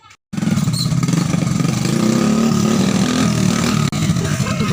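A motorcycle engine runs loud and close, a rough, steady rumbling drone that starts abruptly after a brief quiet moment and keeps going without a break.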